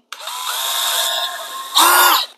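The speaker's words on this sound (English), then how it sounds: "You don't need to put any pressure, just let the drill bit do the work." A power drill whirs into marking tape with light pressure: one sustained close, high-pitched spin that sags slightly mid-run, followed by a louder, brief burst before stopping.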